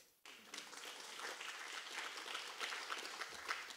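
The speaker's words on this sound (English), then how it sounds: "Now, that in itself needed a round of applause" Applause breaks out at a community college 30th anniversary founding day ceremony, starting abruptly and continuing steadily but faintly, heard from a distance.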